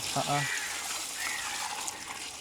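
Fresh water is poured to wash newly caught squid being cleaned for drying, a soft steady gushing that runs under talk, faint and close.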